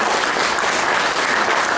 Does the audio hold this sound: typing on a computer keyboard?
no